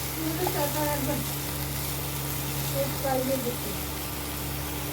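Ghee heating in a pan on a home stove gives a faint, steady sizzling hiss over a low hum, with soft voices in the background.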